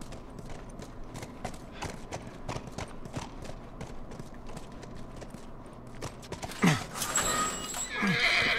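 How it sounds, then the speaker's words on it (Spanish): A horse in The Last of Us video game clip-clops steadily with rhythmic hoofbeats, then lets out a loud, close neigh near the end, followed by another whinny amid shuffling hooves. "Quédate con el caballo."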